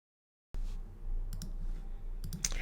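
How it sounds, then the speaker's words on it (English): Quick bursts of keyboard keys tapped close by, a few clustered clicks with short gaps between them, no talking. "I was actually typing in the word ahead of time."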